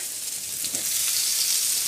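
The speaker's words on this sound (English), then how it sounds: "You're gonna hear a nice little sizzle." Steady hiss of chicken tenderloins frying in a hot pan, a continuous bright crackle heard up close with no talking.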